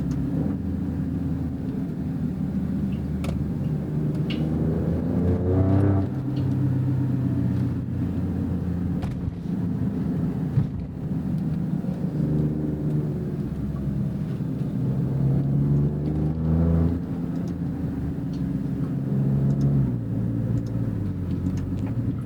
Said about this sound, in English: it's a good sounding 6-cylinder, I gotta say